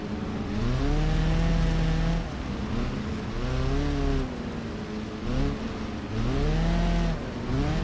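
Race cars in a rallycross video game roar past in repeated waves of rising and falling engine revs, loud and close, with gear shifts and brief tire noise between passes.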